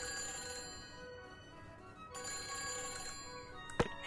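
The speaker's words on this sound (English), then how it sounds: "Oh my god, all these phones!" Several telephones ring at once in the Nancy Drew game The Phantom of Venice, a steady overlapping chorus of trilling bells with one sharp click near the end and no talking.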